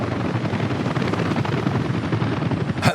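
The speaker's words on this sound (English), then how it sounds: "Loving the massive scale of helicopters just dumping stuff in here" Loud, close helicopter rotor chop from construction helicopters dumping materials in the Workers & Resources city-building game, a dense continuous thudding roar filling the clip without talk.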